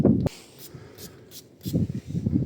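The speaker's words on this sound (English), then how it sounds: "Best goods, Halford's vanilla spray." A Halfords vanilla air freshener aerosol lets out three short, airy spray bursts in quick succession, framed by duller handling thumps and rustles at the start and end.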